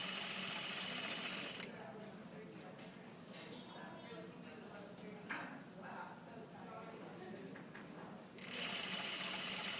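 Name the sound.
sewing machine stitching knit fabric with wide stitch length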